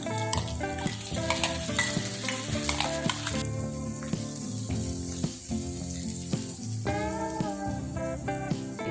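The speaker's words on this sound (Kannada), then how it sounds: "ಇದಕ್ಕೆ ನಾವು ರುಬ್ಕೊಂಡಂಥ ಮಸಾಲೆ ಸೇರಿಸ್ಕೊಳ್ಳೋಣ" Ground masala stirred into frying eggplant for a spiced stuffed-eggplant curry, with a steady sizzle and scraping stirs running through the whole stretch beneath prominent background music.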